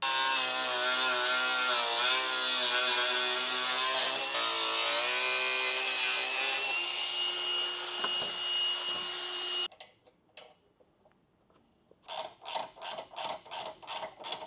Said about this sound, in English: So I'm going to cut this bumper.